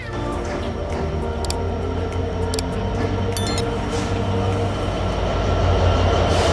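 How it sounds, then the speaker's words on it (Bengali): Sundarban Express, a red-and-green passenger train hauled by an American-built locomotive, arriving; a steady, loud rail rumble with wheel and carriage noise runs throughout, with faint crowd murmur. "আমাদের সুন্দরবন এক্সপ্রেস ট্রেন কিন্তু চলে আসছে যেটা আমেরিকান লোকামেটিভ"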